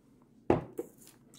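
A spoonful of vitamin powder tipped into a container, with one sharp spoon clink followed by a lighter second tap, close and brief against a quiet background.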